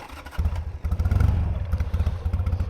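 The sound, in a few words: Harley-Davidson Sportster 883 motorcycle engine running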